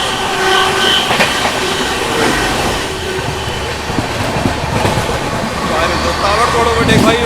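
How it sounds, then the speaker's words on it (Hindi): The Lichchhavi Express passenger train passes on an Indian railway, a loud continuous rumble with clickety-clack of wheels, squeals and a horn, while people talk over it. "ये है लिच्छवी एक्सप्रेस।"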